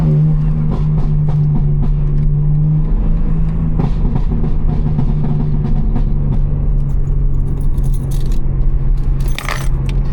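Car keys jangle as they are set down inside a car, a brief metallic clatter over a steady low engine hum, close by.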